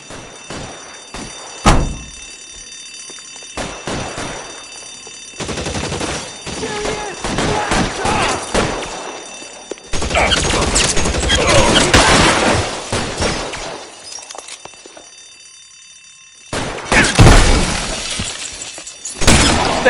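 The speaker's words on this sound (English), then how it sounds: "I'll lay down some suppression fire." Suppressive gunfire in LA Noire, bursts of sharp shots and shattering impacts in separate volleys with brief lulls between, loud and close, mixed with occasional voices.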